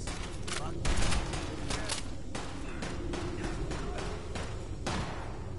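Gunfire in the video game Fallout 4 from a spread-shot gun, a string of loud, sharp shots at irregular intervals over a steady background din.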